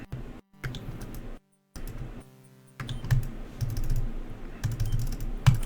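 Keyboard typing during a speedrun of the PC adventure game Quest for Glory IV: Shadows of Darkness, with close clicks arriving in irregular bursts, broken by short gaps of silence.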